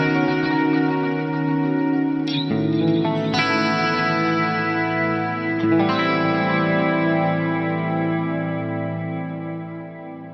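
Clean electric guitar chords ring through a Fractal unit's tape-warble multi-delay and reverb, forming a sustained, shimmering atmospheric wash with wavering pitch and long decaying tails, played alone.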